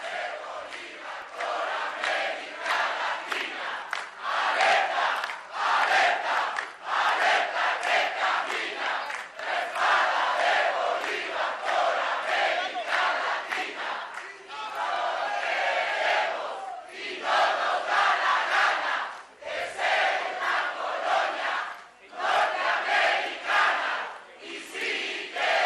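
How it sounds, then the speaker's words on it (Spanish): Crowd of progressive party supporters applauding and cheering at a Latin American political gathering in Ecuador, a loud, sustained roar of clapping and shouts that swells and dips continuously throughout. "Muchas gracias, fuerte el aplauso."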